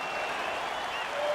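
A video game arena crowd in EA Sports UFC 4 applauds and cheers as a fight gets underway, a dense steady wash of clapping throughout.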